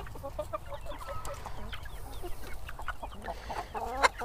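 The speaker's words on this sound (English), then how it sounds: "as evening unfolds, I'm going to spend a little bit of time with the chickens" Backyard chickens cluck steadily in the evening, several hens making short overlapping calls close by, with one sharper squawk near the end.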